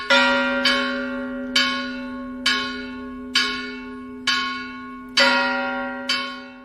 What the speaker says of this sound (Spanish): la campana empieza a repicar